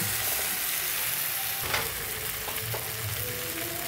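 Curry fries in a hot pan with a steady close sizzle, broken by a few scraping strokes of a spoon as it's stirred to keep it from sticking.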